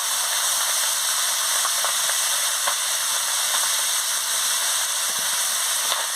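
Potatoes, onions and eggplant fry in a hot pan with a loud, continuous close-up sizzle, broken by occasional light clicks and scrapes from stirring.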